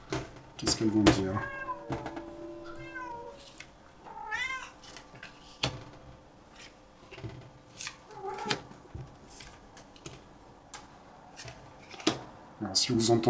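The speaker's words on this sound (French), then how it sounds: "si vous entendez un bruit derrière, c'est mon chat" A cat meows several times in the background while a person talks, the cries rising and falling between the speech.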